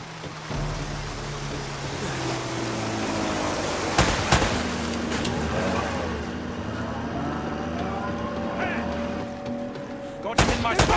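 Scattered gunshots ring out in Uncharted: Drake's Fortune over a rumbling boat engine and sea surf, a couple of sharp cracks midway and a quick burst near the end, with voices talking between them.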